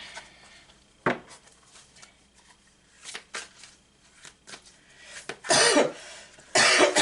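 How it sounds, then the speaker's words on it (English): Several sharp coughs come in separate bursts, with two loud, harsh ones near the end, among quieter rustling and small handling noises. "This cough is so ridiculous."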